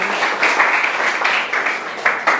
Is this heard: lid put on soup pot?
no